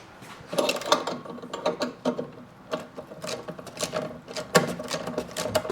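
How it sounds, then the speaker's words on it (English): A ratchet clicks in quick, uneven bursts close by while bolts on a motorcycle mount holding a Yamaha RD250 are tightened, with no talk. "let me tighten these bolts down"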